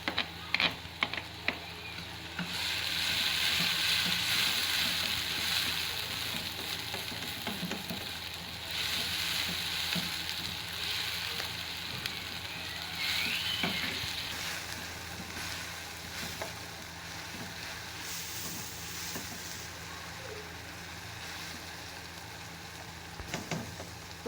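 Onion and tomato frying in a pan while making bread potato rolls: a low, continuous sizzle rising after a few opening clicks, with occasional faint stirring and clattering, quiet and without speech.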